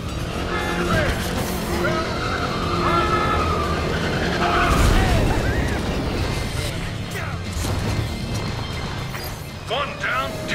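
Karts roar and skid at the start of a race in the video game ModNation Racers, engines buzzing and tires squealing in a busy wash of game sound, with an announcer's voice over it.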